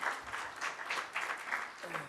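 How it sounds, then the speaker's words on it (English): Brief, fairly faint applause from an audience welcoming a speaker, a soft wash of clapping that swells in small waves and tapers, heard from a distance. "give her a very big round of applause to Marlis Carlin."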